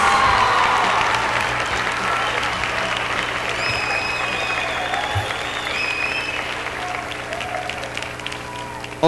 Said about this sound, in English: How about a round of applause for our 10 semi-finalists?